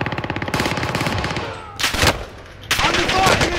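Automatic gunfire rattles in rapid bursts during a Call of Duty Warzone Resurgence match on Fortune's Keep, a steady stuttering volley followed by louder, heavier shots that come and go in waves.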